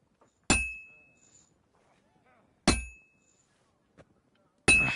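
A smith's hammer strikes hot metal on an anvil at a forge in the video game Kingdom Come: Deliverance 2, three sharp ringing clangs spaced about two seconds apart with a small tap between.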